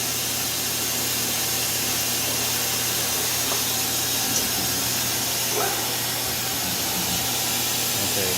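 A Mazak CNC lathe cuts a narrow, deep oil groove into a bushing, giving a steady broadband machining hiss with a low constant hum, continuous and even throughout.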